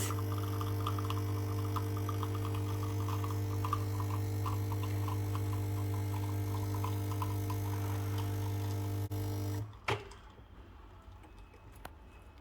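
Nespresso Creatista Plus coffee machine running with a steady low mechanical hum and faint ticking for about ten seconds, then a clunk as it stops and a quieter residual hum remains.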